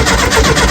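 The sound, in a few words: car engine being cranked over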